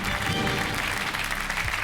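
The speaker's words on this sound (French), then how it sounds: "Applaudissements pour mon ami Bernard." TV game show studio audience applauding, a short burst of loud, dense clapping with a voice faintly audible underneath.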